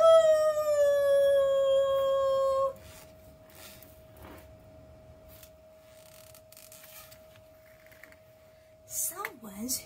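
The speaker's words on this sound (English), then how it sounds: "He's long and lean and very mean, and likes a good night howl." A wolf howls at night in a cartoon animal story: one steady, drawn-out tonal howl for a few seconds that cuts off abruptly, followed by quiet with faint creaks and soft sounds.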